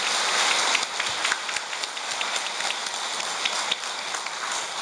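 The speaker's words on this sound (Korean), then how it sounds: "뜨거운 감사 박수 드리겠습니다." Congregation at a Catholic retreat giving warm applause of thanks to a priest: steady, dense clapping from many hands throughout, moderately loud and even, with no speech over it.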